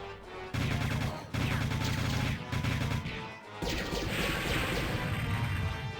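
Rapid bursts of gunfire in the PlayStation shooter Project Overkill, dense repeated shots in long runs broken by short gaps, loud and close, followed by a rougher crashing stretch.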